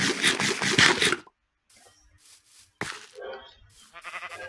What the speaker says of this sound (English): Oh, there's so many sheep.